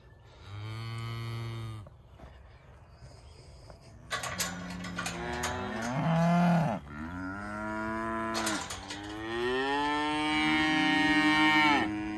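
Cows and calves on a farm moo repeatedly and loudly during a calf sale roundup, long drawn-out bellows overlapping one another with barely a pause between them.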